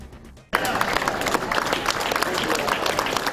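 After a brief quiet moment, applause bursts out from a crowd of family and friends at Bluegrass Airport and continues steadily, with voices mixed in among the clapping.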